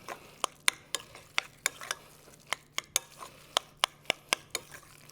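Ground turkey being worked together with onion and pepper in a mixing bowl for burgers, with a series of light, irregular clicking taps and soft squelches close by, quiet between strikes.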